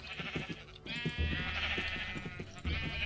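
Minecraft sheep bleat repeatedly in a flock, several wavering baa calls overlapping close by over a steady background tone, with no talking.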